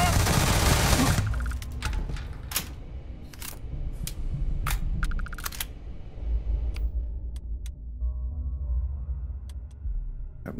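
Rapid bursts of gunfire in the sci-fi video game Starfield: a dense volley at the start, then scattered sharp shots spaced over the following seconds, fairly close and loud.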